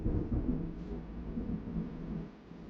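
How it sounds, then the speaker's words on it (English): Deep, rolling thunder from a thunderstorm rumbles steadily throughout, loud and low, fading slightly toward the end, with no voices. "Shut the fuck up, Thunderstorm!"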